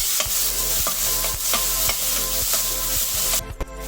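Ginger-garlic paste fries in coconut oil while a spoon stirs it in a pan, giving a steady close sizzle broken by regular scraping strokes about every half second, with no talking.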